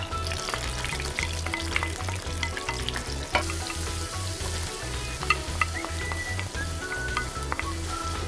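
Onion fries in scallion oil infused with snow crab, a loud, dense and continuous sizzle close up, with repeated stirring scrapes and clicks layered through it.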